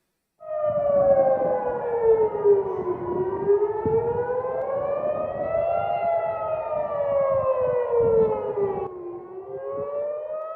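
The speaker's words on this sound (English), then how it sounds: "You can hear the sirens as Iranian missiles come by." Loud, sustained air raid sirens in Jerusalem during an Iranian missile attack wail in slow rising and falling tones, several overlapping, with no voices.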